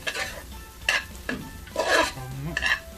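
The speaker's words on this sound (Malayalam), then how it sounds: "മഞ്ഞൾപ്പൊടി ഇട്ടതിന് ശേഷം അതിന് നന്നായി ഒന്ന് ഇളക്കി കൊടുക്കാം" A spoon scrapes and clanks intermittently against a pan while beef is stirred with turmeric powder, a few close scraping strokes over faint frying sizzle.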